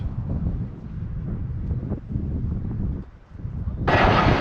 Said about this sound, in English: It is really quite windy